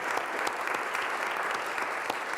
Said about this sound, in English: Mariana, you're getting applause from the room here.